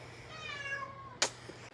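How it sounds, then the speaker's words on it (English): A cat meows once, a clear, drawn-out mid-pitched call close by in a quiet room, followed by a sharp click and faint small noises. "look, cat in the meantime"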